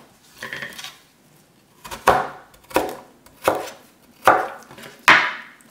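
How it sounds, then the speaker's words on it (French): Vegetables roughly chopped with a kitchen utensil on a board: six sharp, close chopping strikes, each with a brief ringing decay, spaced evenly about two-thirds of a second apart with quiet between, no talk. "Et je prends mon ustensile que je coupe les légumes. Je coupe un peu grossièrement."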